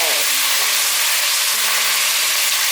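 Baby corn and sugar snap peas stir-fry in a pan with about 200 cc of water just added, giving a loud, continuous close hiss and bubbling sizzle with no talking.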